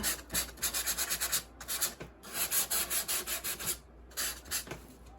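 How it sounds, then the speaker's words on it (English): A small electric sander works a fall scarecrow wooden craft piece flat. Its buzzing comes in repeated rhythmic strokes with short pauses between passes, close up and with no voices. "we're gonna take on the little sander and you're gonna sand this until it's flat"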